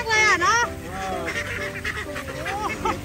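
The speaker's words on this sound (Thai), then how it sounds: "เป็ดคอดักนะคะ" Call ducks at a farm give loud, close, raspy quacks and honks in quick, overlapping bursts that continue throughout.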